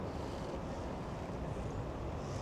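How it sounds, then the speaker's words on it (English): Wind blows steadily at a yacht wharf, a constant roaring buffet across the microphone with the wash of water beneath, loud and unbroken. "It's a little bit windy"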